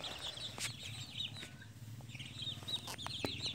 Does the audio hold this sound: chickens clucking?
yes